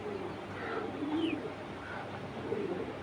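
Icebar silver male pigeon cooing among other birds, low soft coos repeating over about three seconds against a steady background of faint calls and a couple of higher chirps.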